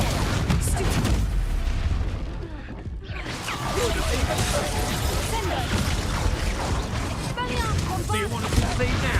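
Expulso explosion spell cast in Hogwarts Legacy: a loud, dense blast with crashing debris, a brief drop partway through, then continued rumbling clatter.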